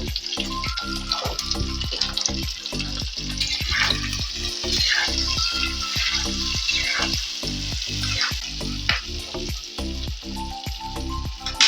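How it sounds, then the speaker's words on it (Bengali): Frying in a pan after adding salt and turmeric: a continuous close sizzle broken by regular scraping stirs and small clinks, with no voices. "ভালো করে লাল করে ভেজে নেব।"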